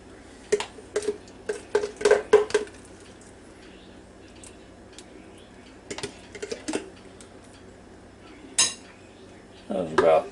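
Spoon clinking and scraping in a bowl while mayonnaise goes into potato salad, a series of close, light metallic taps and scrapes in bursts separated by quieter pauses.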